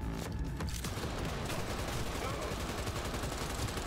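Gunfire in the video game Cyberpunk 2077, a dense, loud and continuous barrage of rapid shots filling the whole stretch, with no pause between bursts.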